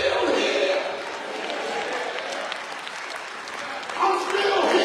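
A church congregation at a Sunday worship service claps and cheers, a dense wash of hand clapping and crowd noise that stays loud throughout, with voices mixed in.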